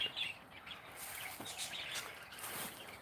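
Small wrens nesting in a Thai garden give faint, high chirps over soft outdoor background noise, with no one speaking.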